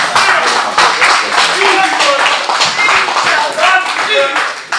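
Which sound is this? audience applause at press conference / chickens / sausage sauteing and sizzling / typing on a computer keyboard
audience applause at press conference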